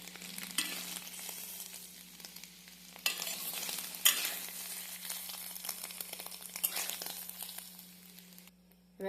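Paneer pieces shallow-frying in oil in a kadai give a steady, close sizzle with occasional stirring scrapes and louder bursts, continuing alone without voices.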